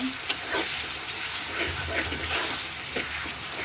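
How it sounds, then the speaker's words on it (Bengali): Spice paste of turmeric and dried chili frying in a pan for a hilsa and elephant foot yam curry: a steady close sizzle broken by scraping stirs. "দিয়ে মশলাটা কষা নেব।"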